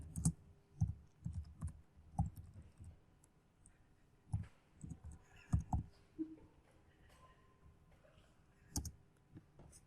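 Keys clatter on a computer keyboard as a command is typed, arriving in short uneven bursts of clicks with brief pauses between, close and fairly quiet.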